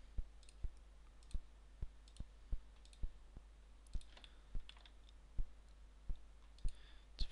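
A computer mouse clicking while working in 3D Studio Max, a quick, sharp tap repeated about every half second, close and fairly even, with faint keyboard and desk noise underneath and no speech.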